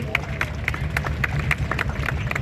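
An audience claps at an Independence Day flag-hoisting ceremony held at a municipal corporation. Steady, rhythmic applause from a crowd continues throughout, with faint crowd murmur underneath.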